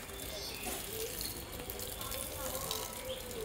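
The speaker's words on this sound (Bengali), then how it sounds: "আমরা এটাকে এখানে জলটাকে ফেলে দিই।" Water is poured out from a container holding snails into a spot nearby, a soft continuous splashing trickle that runs for the whole stretch, fairly faint, with low voices in the background.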